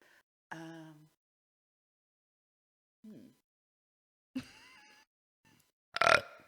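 Several short, throaty burps spaced apart in an otherwise quiet room, the last one louder and rougher than the others.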